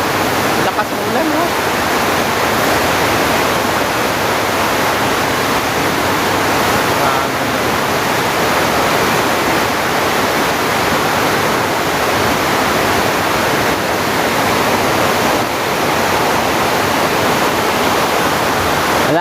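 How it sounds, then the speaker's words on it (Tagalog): A constant roar of heavy super typhoon rain, loud and unbroken, like a downpour drumming on a roof. "Lakas ng ulan"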